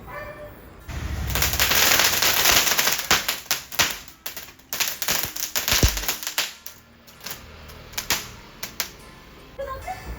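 A string of Vishu firecrackers bursts in rapid crackling pops, dense and loud at first, then thinning into scattered snaps before fading.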